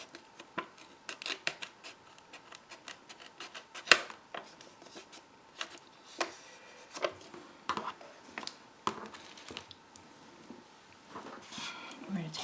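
Scissors cutting paper for a holiday shaker card, a series of crisp snipping strokes at an uneven pace, close and fairly quiet, with a person talking at times.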